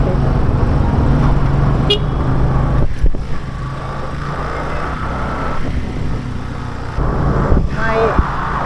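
Busy street traffic in Mandaue, Cebu, with a steady roar of passing vehicles and a few short car horn toots scattered through, heard from the roadside under faint voices.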